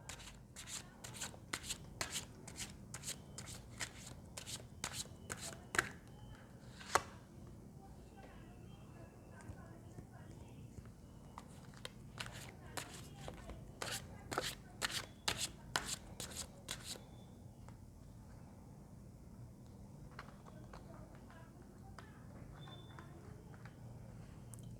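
Tarot cards being shuffled and drawn, quiet close riffling and crisp snapping bursts in irregular clusters, with soft speech in the background.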